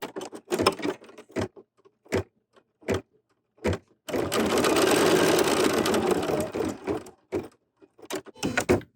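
An embroidery machine stitches a placement line on a hooped sampler, a steady whirring hum running for several seconds, framed by brief handling clicks and bumps nearby, with no voices.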